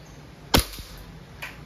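An Umarex airsoft Glock 17 Gen 5 pistol fires from a gas magazine with one sharp, close crack, followed a moment later by a faint click.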